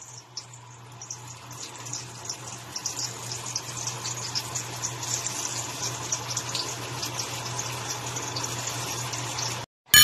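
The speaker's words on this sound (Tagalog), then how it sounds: "Prito na natin siya lahat." Steady, dense crackling sizzle of bean sprout spring rolls frying in hot oil, continuous and close for several seconds, with a low hum underneath and no talking.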